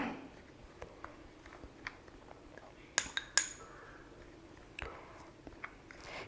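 A spoon stirring aloe vera gel into a homemade face pack in a small bowl, quiet scattered clinks and taps with a few sharper knocks against the rim, no voices.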